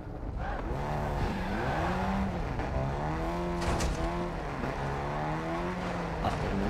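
Car engine running steadily while driving in Warzone 2.0, a continuous loud drone with rising and falling pitch as the vehicle accelerates, heard alone without talk.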